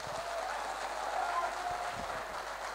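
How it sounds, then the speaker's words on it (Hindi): An audience at a film stunt artists' general body meeting applauds with a steady, fairly faint clatter of clapping that holds for the whole stretch without a clear peak or end. "मैं चाहूंगा कि जोरदार इनके लिए तालियां बजाए"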